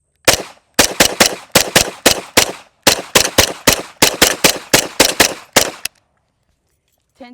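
Gunshots from a Kel-Tec Sub2000 Gen 3 carbine in 5.7 caliber, fired at an outdoor range as a rapid string of about sixteen loud, sharp reports in two bursts with a brief gap, then silence.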